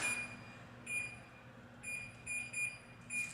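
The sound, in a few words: oven timer being set and beeping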